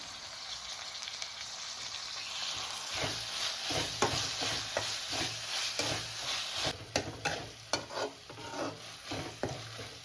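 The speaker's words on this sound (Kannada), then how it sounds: "ಟೊಮೆಟೊ ಕಂಪ್ಲೀಟಾಗಿ ಸಾಫ್ಟ್ ಆಗೋವರೆಗೂ ಫ್ರೈ ಮಾಡ್ಕೋಬೇಕು." Chopped tomato with salt frying in a pan for egg rice, a steady close sizzle broken by repeated scraping stir strokes that grow more frequent toward the end, with no talking.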